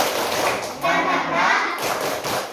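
Schoolchildren in a primary school classroom perform a tepuk semangat spirit clap, a dense, loud burst of group clapping and thumping that comes in short rhythmic phrases with brief gaps between them.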